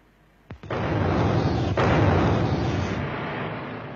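A sharp crack followed by a deep, rumbling blast that roars and slowly fades, like a distant coal mine explosion echoing through tunnels, at a mine in Pas-de-Calais, France.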